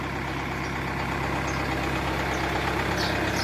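A 2007 Kia Carnival automatic minivan idles steadily and evenly at close range, a smooth low hum with no revving and no voices over it.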